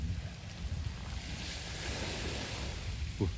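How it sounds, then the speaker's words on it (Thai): Water in a public park gives a steady wash of rushing, splashing sound that stays broad and continuous, with wind buffeting the microphone, fairly close and moderately loud. "เสียงน้ำ"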